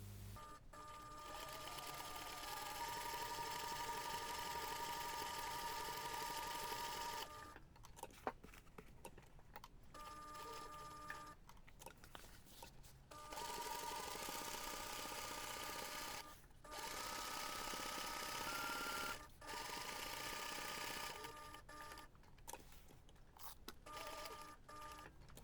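A home sewing machine stitches around a rectangle of fabric for a laptop bag, running in several bursts of steady whirring separated by brief stops, fairly quiet and close.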